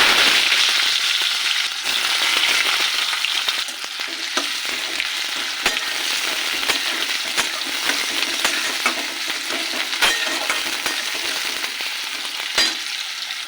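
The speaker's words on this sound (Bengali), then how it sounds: "আলু ও পেঁয়াজ একসাথে লাল করে ভেজে নেব" Chopped onions hiss and crackle in hot oil in a wok after a cumin tempering, a loud continuous sizzle with frequent sharp stirring clinks and scrapes, no voices.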